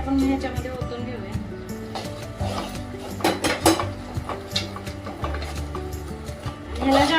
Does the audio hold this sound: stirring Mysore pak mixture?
yes